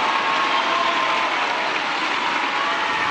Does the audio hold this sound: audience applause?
yes